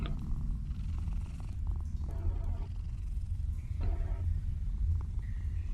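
A cat in the video game Mortal Shell purrs while being petted. The purr is a deep, continuous rumbling drone, close and steady, with a few faint clicks and rustles over it.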